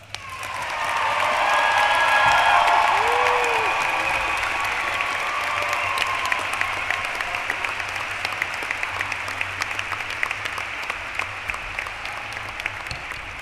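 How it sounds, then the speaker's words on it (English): A commencement audience gives a sustained round of applause for graduates, swelling quickly and then holding steady as dense, continuous clapping that fills a large hall. "Please join me in a last round of applause for our graduates."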